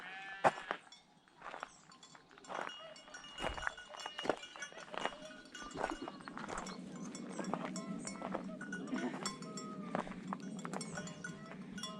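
Loose sheep and goats bleat repeatedly along a mountain trail in Mallorca, several calls near and far overlapping above a steady low rumble, with occasional hoof clatter.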